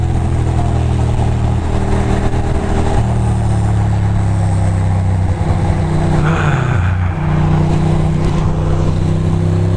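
Dense New York City street traffic rumbles continuously up close, with idling and revving engines forming a steady loud drone and no talking.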